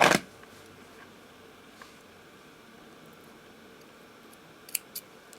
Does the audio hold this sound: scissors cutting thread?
yes